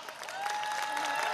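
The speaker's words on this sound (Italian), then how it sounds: "vai con l'applauso" A crowd at an outdoor village festival in Cappelle sul Tavo bursts into dense clapping that swells and holds steady, moderately distant, with faint voices underneath.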